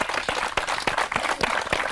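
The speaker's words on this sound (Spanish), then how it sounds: "estos dos nenos merecen un aplauso porque tiraron del carro" An audience applauds two children in a village in Tineo, Asturias, a dense, fairly loud patter of many hands clapping at once, continuous across the moment.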